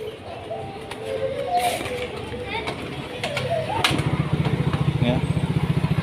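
A Yamaha Mio J scooter engine starts up partway through and settles into a steady, rapid idle putter close by, following a stretch of background noise with bird cooing and general ambience.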